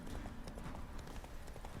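Hooves of the horse Roach pound in a steady, rapid galloping rhythm across the ground in The Witcher 3: Wild Hunt, loud and continuous throughout.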